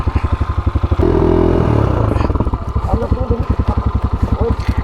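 Off-road motorcycle on a dirt trail in Bangladesh, its engine pulsing in a steady rapid rhythm, then surging into a loud sustained roar and scrabbling clatter for about a second as it climbs over an obstacle before returning to a chugging beat.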